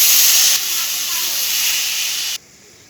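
Boiled dal poured into a hot pan with chili powder and Maggi masala, giving a loud, steady sizzling hiss that eases slightly after a moment and then drops away abruptly near the end.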